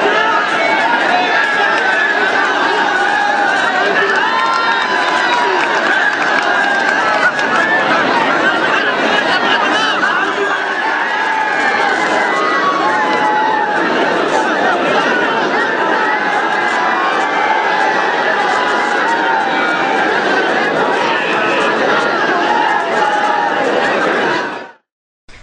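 A large crowd cheers and shouts at once as news of an election win arrives at a local council results count, the noise dense, loud and continuous throughout before cutting off abruptly at the end.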